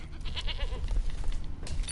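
A goat in the video game Witcher 3 bleats in one wavering, nasal call close by, over a low rumbling background.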